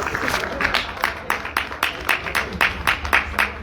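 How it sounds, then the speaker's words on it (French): Audience applause, a small crowd clapping in a loose, fairly rhythmic pattern of distinct claps, moderately close and steady throughout. "Ouais, on applaudit."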